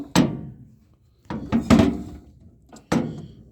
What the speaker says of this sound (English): We just pop the ammo can